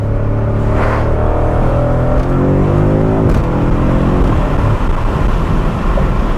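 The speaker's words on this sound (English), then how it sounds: "Another second gear roll on, right about 40." A BMW F90 M5 with a JB4 tune pulls hard in a second gear roll-on from about 40, its engine note rising in a loud, steady sweep heard from inside the car, with no talk over it.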